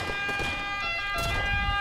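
A wailing ambulance siren sounds steadily and loudly throughout, its tone shifting midway, in the Halo 5 Guardians multiplayer game.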